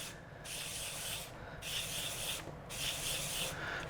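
Emery paper rubs lightly over the machined gasket surface of a 1/8 scale buggy differential, giving three even back-and-forth sanding strokes with short pauses between, close and quiet.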